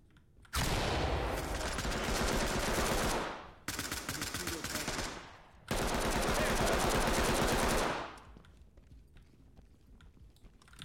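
Rapid automatic gunfire in the tactical shooter game Ready or Not, three loud sustained bursts of dense rattling shots lasting a few seconds each, with short gaps between them and quieter room ambience afterward.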